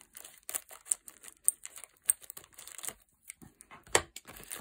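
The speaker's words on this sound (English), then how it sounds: "I'm going to have to use the scissors." A Pokémon booster pack wrapper is cut open with scissors, giving a close series of quick crinkly snips and crackling plastic tearing sounds in irregular bursts with short pauses.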